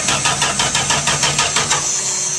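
A 1973 Dodge Dart engine cranks over in a steady, rapid rhythm of starter pulses, loud and close, with no clear catch into running; no talk.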